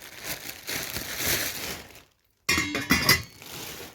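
Heavy cast iron and steel cookware lids handled during unboxing, with metallic clinks, rattles and crinkling packaging, a brief silent gap, then sharper clanks of the lid being set in place.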